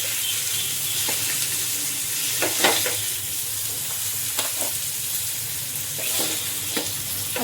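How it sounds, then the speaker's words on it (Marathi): Bangda mackerel fries crispy in a pan over lowered heat, a dense, even sizzle running throughout with scattered spits and light scraping stirs, close and steady. "आता इथे आपले सगळे बांगडे छान असे फ्राय झाले"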